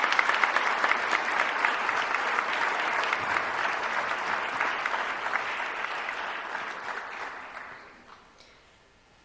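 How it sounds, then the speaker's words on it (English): A school auditorium crowd claps for newly inducted National Honor Society members at a high school ceremony, a sustained dense round of applause that gradually fades out over the final seconds. "Let's give one more round of applause for the newest members of the National Honor Society."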